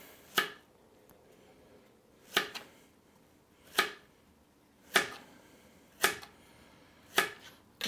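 A knife cuts a bad spot out of a zucchini in a home kitchen, six sharp, evenly spaced chops or cuts against a board, each a crisp close tap with quiet gaps between.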